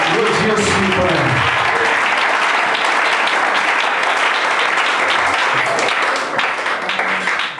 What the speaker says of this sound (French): Oh, on l'acclame encore.